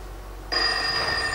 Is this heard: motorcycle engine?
no